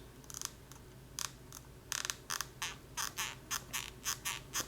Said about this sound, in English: Only build quality issue, literally the only one, which I mentioned, is the creak.